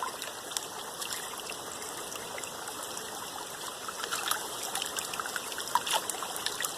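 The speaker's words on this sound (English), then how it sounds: "while it's in the pan and water's going over it" Water runs and trickles over gray clay in a pan, a soft continuous flow with small splashes and dribbles as fingers sift through it, fairly faint and close.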